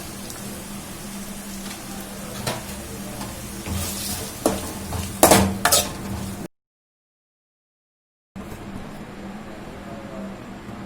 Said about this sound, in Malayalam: തക്കാളി അതിന്റെ പച്ചമണം മാറുന്ന വരെ നന്നായിട്ട് വഴറ്റിയെടുക്കുക.